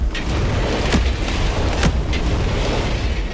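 Explosions in an intense immersive shooter game, heavy booms and sharp blasts punctuating a loud rumbling battle din, with two distinct bursts standing out over the continuous noise.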